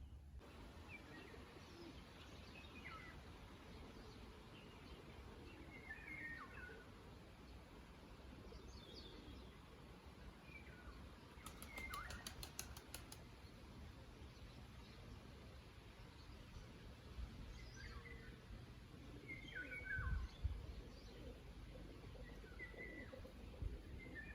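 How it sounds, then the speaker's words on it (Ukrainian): Morning birdsong outdoors, faint chirps and a dove's soft cooing scattered over a low steady background hum, distant and quiet throughout. "І як почуєте, то трохи співу пташок."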